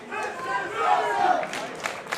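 Wrestling crowd roaring and chanting in a Newcastle arena during a championship match, a loud, sustained swell of cheers with rising shouts and occasional bursts, commentary voice over the noise.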